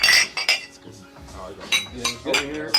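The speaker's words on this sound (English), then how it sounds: "Cheers! We gotta hear that clink." Beer glasses clink together in a toast at a live beer-tasting show, several bright, short chinks spaced through the moment, close and fairly loud, with no talk over them.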